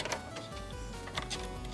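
A colour printer in an office runs a print job from a USB stick onto regular paper, giving a steady mechanical whir with rhythmic ticking and clacking of the paper feed, close and continuous throughout.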